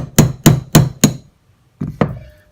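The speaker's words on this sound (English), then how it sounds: "Take our 1/16 punch and drive out our hammer pin." A 1/16 punch is hammered to drive out the hammer pin of a Kel-Tec PF-9 pistol: four sharp, evenly spaced metallic taps, a pause, then two more strikes, loud and close.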